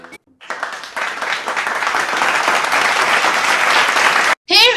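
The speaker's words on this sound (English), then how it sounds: "Let us applaud their diligence." A school audience at a 2021 closing ceremony applauds steadily for several seconds, a dense even wash of clapping that swells slightly before cutting off, followed by a brief voice.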